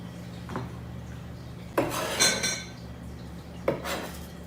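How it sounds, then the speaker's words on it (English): Chopped onion scraped from a board into a bowl with a chef's knife, a few distinct clattering knocks and scrapes of blade and dish spaced a second or two apart, close and clear with no talk. "now I'm going to put this into the bowl"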